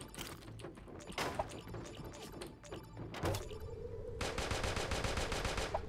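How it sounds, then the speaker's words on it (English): Gunfire in the video game Creative Destruction, with several sharp shots and bursts in the first half, then a dense rapid machine-gun rattle that carries on to the end. "I'm getting shot at."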